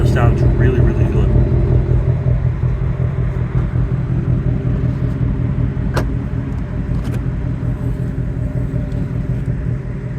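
A 2022 Ford Mustang GT Premium V8 idling, a steady deep rumble close by that holds even and unbroken throughout.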